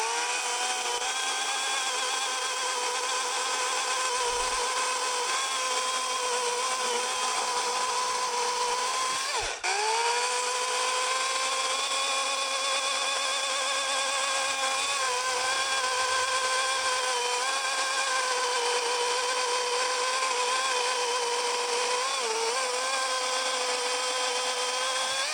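A freshly charged battery chainsaw cuts through wood with a continuous high, steady whine of the motor and chain, loud and close, holding evenly for the whole stretch with one brief dip partway through.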